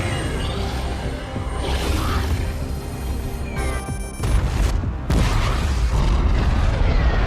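A huge explosion from the Pacific Rim film, with the giant robot Gypsy facing kaiju, sounds as loud, sustained booming rumble with crashing bursts and mechanical debris, swelling sharply twice toward the end.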